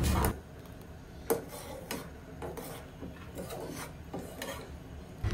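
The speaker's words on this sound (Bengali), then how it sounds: "তো এখন ভালোভাবে এগুলো মিশিয়ে নিচ্ছি, আরও কিছুক্ষণ এইভাবে কুক করে নেব।" A spoon scrapes and rubs around a pot of hot and sour chicken soup with egg, making repeated rasping strokes at a steady pace, close and moderately loud, with no voices.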